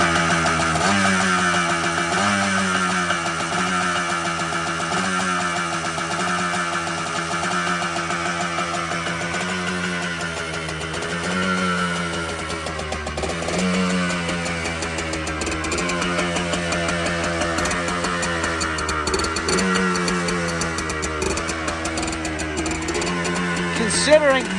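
A Yamaha Blaster ATV engine runs after a cold start, idling with a steady buzzing drone that wavers slightly in pitch, fairly close and continuous.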